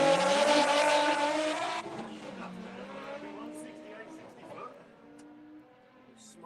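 Race cars launching at the start of a Volkswagen drag event, including a supercharged VR6 Corrado on nitrous: a loud, roaring engine blast with tire squeal that fades into a more distant drone as the cars pull away.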